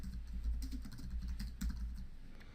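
Typing on a computer keyboard, a rapid run of soft key clicks over a low background hum, close and fairly quiet with no talk.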